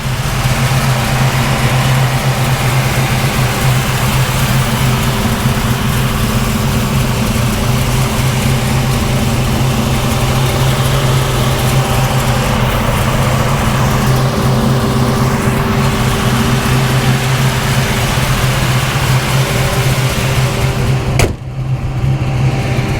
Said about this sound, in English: And there's our built motor. Very smooth idle.